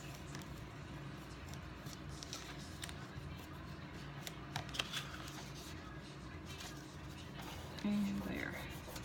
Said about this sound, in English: Use your bone folder or your finger or whatever, just to get it a nice crease to make sure the paper's not going to crack or crinkle.